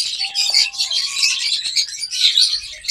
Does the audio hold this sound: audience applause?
no